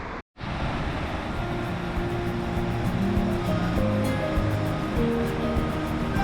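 Ocean surf at Pichilemu beach in Chile rolls in as a continuous loud roar of waves, briefly cut off near the start, with wind buffeting the microphone.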